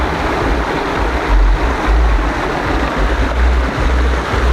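Small waterfall in a mossy forest on Vancouver Island, heard up close as a steady, loud rush of falling water with deep rumble and constant hiss, no voices.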